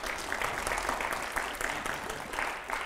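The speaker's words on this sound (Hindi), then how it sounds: "जोरदार तालियां हो जाए जरा।" A studio audience at a Hindi TV news debate show claps steadily and densely for about three seconds, loud and continuous with no talk over it.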